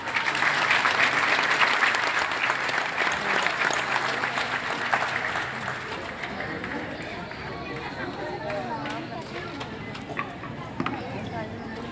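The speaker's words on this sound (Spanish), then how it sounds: "Un fuerte aplauso, por favor." Audience applause rings out at a diploma ceremony at a high school in Coahuayutla, Guerrero, loud and dense at first, then thinning as voices begin talking over the fading claps.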